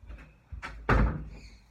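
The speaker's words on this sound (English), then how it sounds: "Close the door. Close it." A door pushed shut at home, a couple of soft knocks and rustles leading into one firm thud, fairly close and without talk.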